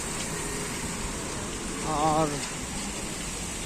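Steady rain falls on a street in Shillong, a dense even hiss running throughout with a brief spoken word from a passerby midway.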